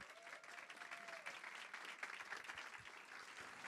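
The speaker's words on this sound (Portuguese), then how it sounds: "Aplausos." Applause from an audience at a school violence-prevention forum rolls on steadily and fairly quietly, heard from a distance.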